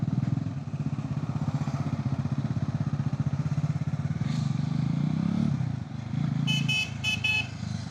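A sports motorcycle engine revved hard on a road, a loud, fast, evenly pulsing exhaust note that holds for several seconds, then drops and picks up again, with brief horn toots near the end.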